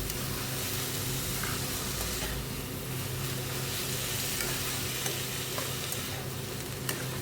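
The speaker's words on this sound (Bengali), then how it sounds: "দেখো মোচাটা ভালো করে আমি মিশিয়ে দিলাম।" Boiled banana flower is stirred into a masala in a pan. A loud, steady sizzle carries on throughout, with soft scraping and stirring noises mixed in and no voices.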